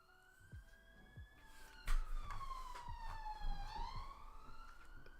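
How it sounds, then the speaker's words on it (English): A police car siren wails past with rising and falling Doppler-shifted tones, loud and close at mid-point and then fading, over low background rumble. "Police car goes past."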